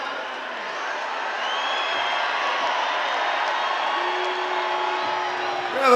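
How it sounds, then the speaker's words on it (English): A hometown concert crowd at a show in Pittsburgh, a sustained roar of cheering and whooping from a large arena audience, swelling steadily and heard from a distance. "So then we get kind of the big hometown crowd moment here."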